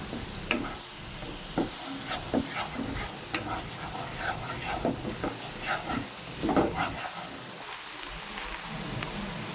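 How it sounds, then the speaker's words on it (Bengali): Spice masala of cumin and coriander powder being fried and stirred with a little water in a pan while cooking pomfret fish: steady sizzling hiss broken by scraping stirs and occasional louder spatters, close and continuous, no voices. "একটু জল দিয়ে মশলাটা ভালো করে কষিয়ে নেব"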